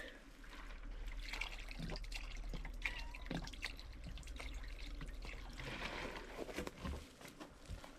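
Water pours and trickles with a splashy, continuous gurgle, fairly faint, accompanied by a few clicks and handling noises.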